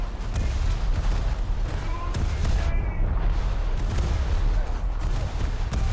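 Rapid naval secondary guns of a battleship blazing away at an A7V tank in a video game, a dense continuous barrage of overlapping shots and booms that never lets up.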